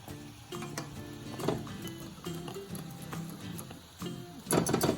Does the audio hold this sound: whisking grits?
yes